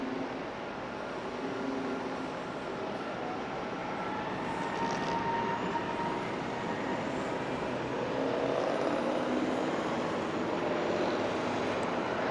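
An American airliner takes off from runway 24 left at LAX, heard as a steady, fairly distant broadband jet roar that swells slightly toward the end, with no voices.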